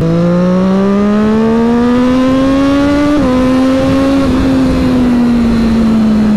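Triumph Street Triple 675 motorcycle accelerating hard along a straight, a loud close engine note rising steadily in pitch, dropping briefly at quick gear changes before pulling on again.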